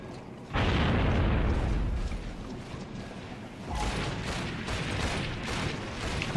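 Gunfire in a first-person shooter video game match: a loud burst of shots opens after half a second, then dense, repeated gun reports and booms keep going at a high level, with a second heavy volley late on.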